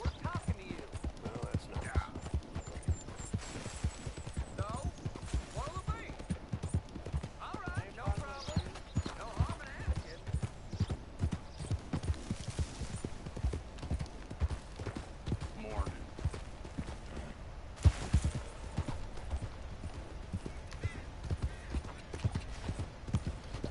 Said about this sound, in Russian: That's a nice looking horse you have there.